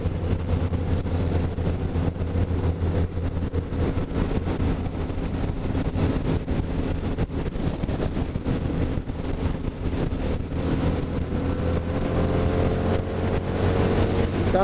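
A 2013 Harley-Davidson Night Rod Special cruising in sixth gear, a steady deep engine drone with wind rush, loud and continuous from the rider's position, with a slight rise in pitch toward the end and no talk.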